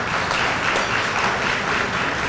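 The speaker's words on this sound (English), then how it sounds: "Want to make sure we give him a round of applause." A crowd applauds loudly and steadily, dense clapping from many hands filling the whole moment without pause.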